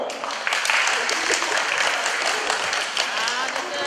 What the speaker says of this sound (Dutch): Jij blijft er net zo lang staan dat jullie moeten gaan klappen